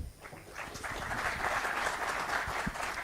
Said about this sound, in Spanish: les pido un aplauso para Sebastián